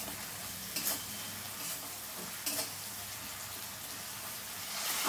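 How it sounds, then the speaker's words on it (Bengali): Ginger and green chilli spice paste frying in a pan for fish curry, a steady close sizzle with a few brief stirring scrapes, no voices. "আমি মশলাটা ভালো করে ভেজে নেব"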